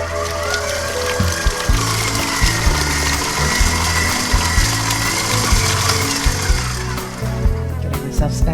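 Sour cream coffee cake batter is mixed in a bowl, giving a continuous mechanical whir with rhythmic clicking and scraping. The sound stays steady and close and then eases off near the end.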